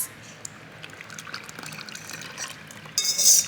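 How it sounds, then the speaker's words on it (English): Wet ingredients are stirred into dry ones in a bowl with a whisk, a soft, steady wet swishing that grows louder and more scraping toward the end, close and without talk. "I'm gonna mix this up"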